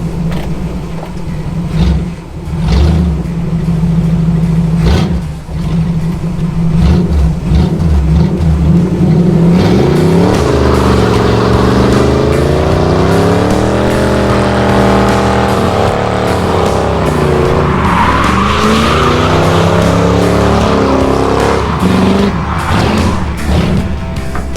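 A 1947 Ford F100 with a 302 V8 and Edelbrock carburetor rumbles loudly at idle, then pulls away and accelerates through rising and falling revs as it drives, heard close up throughout.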